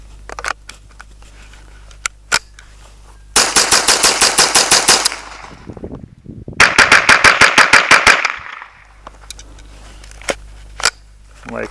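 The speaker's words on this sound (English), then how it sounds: "Now, we'll do a rapid fire test with it." Two rapid-fire strings from a KIDD Classic 10/22-style .22lr semi-automatic rifle, each a quick run of about a dozen sharp, loud, evenly spaced shots, separated by a short pause, with a few isolated shots and handling clicks around them.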